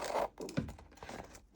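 Paper being cut for a collage junk journal cover, short crisp snipping and scratchy rustles in a quick close-up burst, fairly quiet with no talking.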